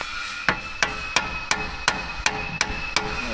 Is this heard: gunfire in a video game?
no